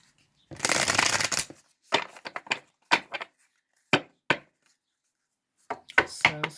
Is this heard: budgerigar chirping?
no